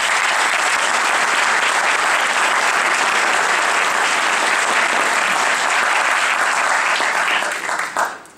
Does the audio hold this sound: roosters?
no